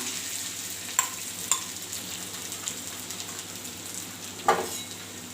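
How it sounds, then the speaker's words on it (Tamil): Grated coconut frying in hot oil on low heat for a bitter gourd pitlai: a steady soft sizzle with a few light taps of a spoon against the pan. "எண்ணெய் சூடாயிடுச்சு இப்போ இதில் சிம்மில் வச்சுக்கலாம் துருவி வச்சு தேங்காயை கொட்டிக்கலாம்"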